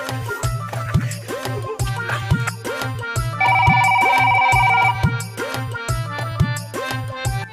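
A mobile phone ringtone rings through a few repeated melodic bursts with a sustained electronic tone in the middle, loud and close, with no voices.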